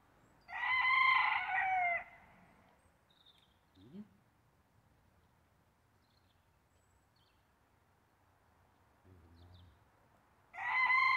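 A rooster crows loudly and close, one full crow at the start and another beginning at the end, with faint clucks and rustling in the quiet between.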